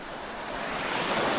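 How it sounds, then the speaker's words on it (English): A slow-running river in a rainforest, heard as a steady, full rush of flowing water that swells slightly louder toward the end, with no voices over it. "Nice part of the river."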